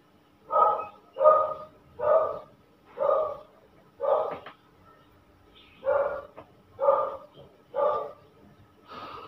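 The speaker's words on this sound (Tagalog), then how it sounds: "Tumatahol na yung aso." A dog barks in a regular rhythm, about nine evenly spaced barks at moderate distance, with a short pause midway and no talking.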